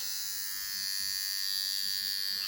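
A cheap electric shaver buzzes close by with a steady, high-pitched motor hum, unbroken and fairly quiet.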